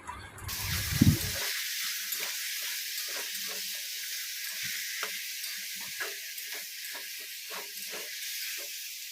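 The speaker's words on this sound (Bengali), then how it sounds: "এবারে এটাকে আমি খুব ভালো করে কষাবো অনেকটা সময় ধরেই আস্তে আস্তে কষাতে হবে" Chicken slowly sautéing in a pan, a soft continuous sizzle and hiss with faint periodic stirring scrapes after a brief louder clatter at the start.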